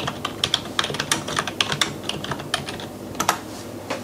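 Steady typing on a computer keyboard while testing a Radxa Zero 3W single-board computer, a brisk run of close, crisp key clicks with uneven rhythm and small pauses, no voices.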